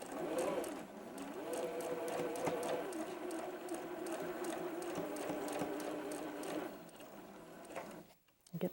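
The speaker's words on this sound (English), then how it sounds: "And now we can go ahead and sew that on." A sewing machine runs steadily for about seven seconds, stitching pieces of a mini Double Wedding Ring quilt with raw edges held together, then slows and stops.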